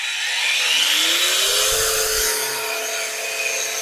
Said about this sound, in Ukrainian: запускаємо на повні оберти і чи відкрутиться круг